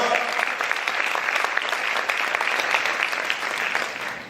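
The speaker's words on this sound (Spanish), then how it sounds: "Vamos a aplaudir fuerte al Señor." Church congregation applauding loudly during a worship service, a full close roll of many hands clapping steadily, with a voice faintly audible beneath the clapping.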